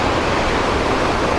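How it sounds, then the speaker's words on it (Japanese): Japan's biggest waterfall, feeding a clear emerald-green river, gives off a loud, continuous, close roar of rushing water with no break. "日本一を誇る滝だそうです。"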